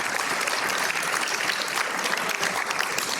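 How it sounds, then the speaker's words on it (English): A round of applause at a community unity dinner, loud, steady crowd clapping that continues without a break, with no talk over it. "Let's give them a round of applause."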